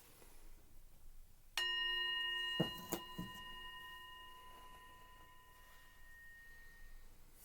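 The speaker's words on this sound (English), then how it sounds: "I'm going to ring the bell. I'm going to ask you to listen carefully." A single clear bell strike with a bright, ringing tone that sustains and slowly fades over several seconds in a quiet room, with a few soft knocks after.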